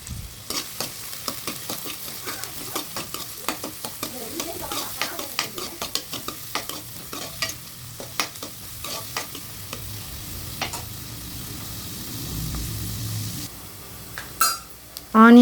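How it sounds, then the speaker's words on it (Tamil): Chopped onions added to hot oil with mustard seeds fry in a pan for yippee noodles, a soft sizzle running under repeated scraping stirs and clinks of a spoon against the pan, with a brief louder clatter near the end. "நம்ம வெட்டி வச்சுருந்த வெங்காயம் ஆட் பண்ணிக்கலாம். ஆட் பண்ணிவிட்டு இதை நல்லா மிக்ஸ் பண்ணி விட்டுக்கலாம்."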